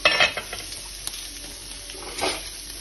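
Rice with chunks of ham being stirred in a pot, a close spoon scraping against the bottom with light sizzling, a few uneven strokes over steady background hiss.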